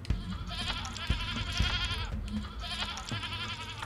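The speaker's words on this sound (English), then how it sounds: "A ghost goat, apparently." Ghostly goat in the video game Sally Face bleats in wavering, drawn-out cries over a low game backdrop with a few soft thuds, moderately loud and without talk.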